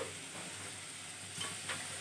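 Potatoes sizzle in a pan while being fried for a mutton and potato curry, a continuous quiet frying hiss broken near the end by a couple of short scraping stirs, with no voices.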